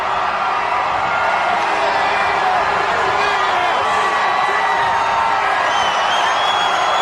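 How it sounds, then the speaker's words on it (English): A large Times Square crowd cheers and whoops in the final moments before the 1993 New Year's Eve ball drop, a continuous distant roar with scattered shouts. "Listen to that crowd."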